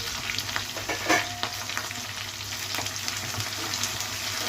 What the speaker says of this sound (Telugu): ఉల్లిపాయలు కాస్త బాగా మగ్గాలన్నమాట